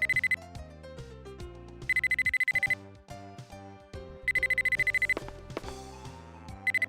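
A telephone rings in the video game Mizzurna Falls, a bright electronic trill in repeated bursts over looping synthesized game music, clear and up front with no voices.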